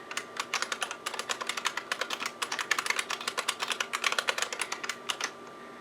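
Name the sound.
typing on a computer keyboard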